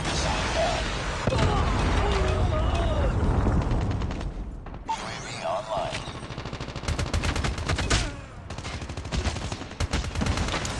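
Assault rifle in Call of Duty Mobile fired in short taps for long-range control, loud rapid bursts of shots amid dense game battle noise with brief pauses between volleys.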